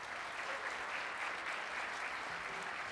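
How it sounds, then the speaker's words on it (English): An audience at a lightning-talks event claps in a dense, steady burst of applause that fills the room, even and sustained with no voices standing out. "So let's give her a round of applause"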